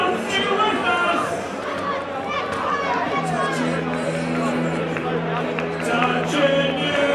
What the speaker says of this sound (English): Let's hear from the crowd.